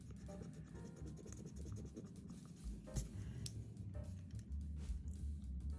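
An Oaso erasable retractable fountain pen writing on plain copy paper, close and quiet, with a continuous soft scratchy scribbling of nib on paper and small irregular strokes throughout.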